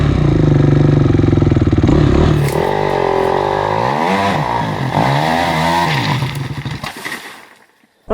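A dirt bike revving up a steep hill: a loud, close engine roar rising and falling in pitch as the throttle is worked, then fading away toward the end.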